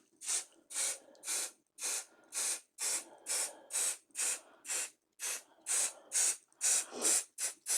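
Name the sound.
aerosol spray can spraying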